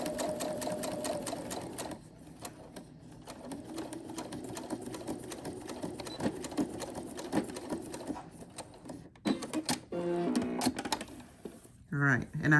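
Domestic sewing machine stitching around a small fabric drawstring bag, a steady rapid mechanical whir that pauses and restarts, with a final burst of stitching near the end; a voice talks over it in the middle.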